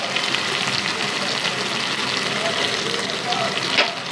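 Masala with curd and water sizzling in a pan while cooking a hilsa fish sizzler, a steady broadband fry hiss running throughout with a few small pops and bubbles.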